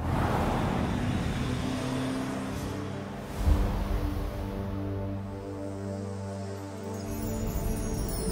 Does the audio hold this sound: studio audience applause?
no